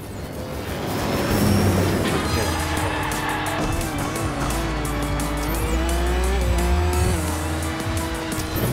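A car in a Hot Wheels racing video game drifts through a corner, tires squealing loudly and continuously over a high-revving engine drone and game music for several seconds.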